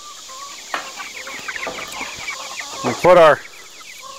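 Chickens in a backyard chicken tractor cluck and squawk in scattered bursts, with one loud close squawking run near the end, while a person talks briefly over them.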